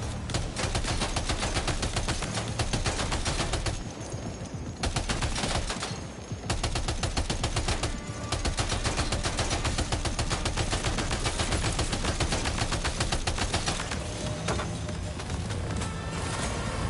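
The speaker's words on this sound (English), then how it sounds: "I thought something was shooting me from the right." Rapid bursts of gunfire crackle almost continuously in a Death Stranding 2 battle, loud and dense with only brief gaps, layered over game ambience.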